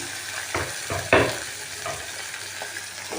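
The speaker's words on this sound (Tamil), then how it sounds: "இந்த ஆனியன் நல்லா குக் ஆகி வரட்டும்" Onions frying in a pan for chicken dum biryani, a steady close sizzle with a few louder stirring scrapes and clatters near the start, no talk.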